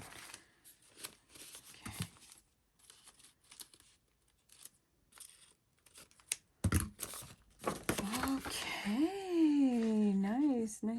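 Paper being cut for a traveler's notebook: scattered crisp snips and rustles, near and moderately loud, with a voice talking over the later part.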